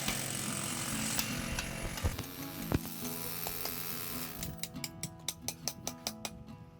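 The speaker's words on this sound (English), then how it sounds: "We drilled each hole with a hammer drill" A hammer drill boring holes in concrete while a block wall is replaced with an aluminum fence, a loud continuous grinding whine that breaks into a run of rapid, evenly spaced sharp impacts near the end.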